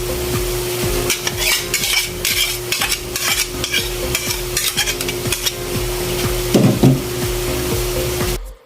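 Bean sprouts tossed with soy sauce and oyster sauce in a pan, a utensil scraping and clattering against the metal in steady irregular strokes over a constant sizzle and a low hum, close and fairly loud, with no voices.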